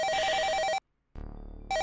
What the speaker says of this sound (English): I have to use the telephone.